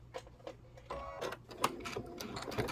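A home sewing machine stitches thread while the upper thread is misbehaving, giving a quiet, steady mechanical whir with rhythmic ticking and small clunks, fairly faint and close.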